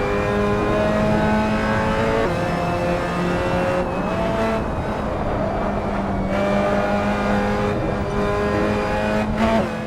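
Race car engine in Assetto Corsa driven through the Zakskurve, a loud sustained high-revving drone with steady harmonics that dips and recovers at a clumsy mid-corner upshift, with a second dip later, close and continuous throughout.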